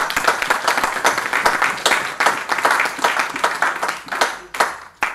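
A church congregation applauds the word of God, a steady, lively round of many hands clapping for about five seconds that rises and falls a little before ending abruptly.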